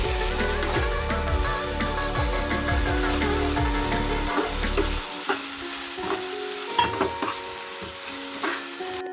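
Onions and tomatoes fry in a pan with a loud continuous sizzle, accompanied by rhythmic scraping strokes of a spatula that stop partway through, leaving the frying to crackle on alone.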